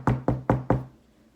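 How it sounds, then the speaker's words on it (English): Four firm knocks on a door in a quick, even rhythm, close and clear, then silence. "A knock came at the door."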